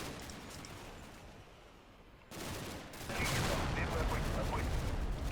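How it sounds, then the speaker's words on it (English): Mortar shell detonating in a snowy village battle in a World War II strategy video game, a sudden explosive crack followed by a louder rolling blast and sustained rumble, with no voices over it. "And that's probably a mortar shell."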